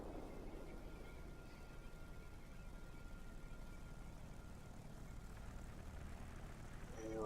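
Propeller aircraft engine drone in the World of Warplanes game, a steady low rumbling hum that holds evenly throughout, faint and continuous.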